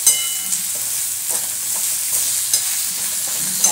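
A fish head being stirred and fried in a pan gives a steady sizzle with repeated scraping stir strokes at a regular rhythm, close and alone.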